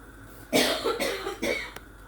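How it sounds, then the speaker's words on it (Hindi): Three hoarse coughs in quick succession, close and fairly loud, with a short faint sound at the end. "इस तरह की खांसी लगी हुई है मुझे"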